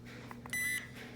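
An Energrid VS150X power bank gives a single clear electronic beep lasting about a quarter second to signal its battery level, heard up close over a low hum.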